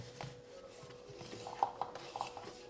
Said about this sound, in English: 150 grams of fine semolina, and just give it a mix